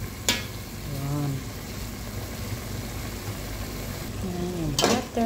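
Butter melting in a pan for pasta cooked in fresh milk, giving a soft steady sizzle and crackle with a few brief clatters of a utensil, fairly close and moderately quiet.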